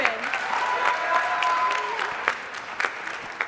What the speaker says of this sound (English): Let's give another round of applause for Ethan Bruderman.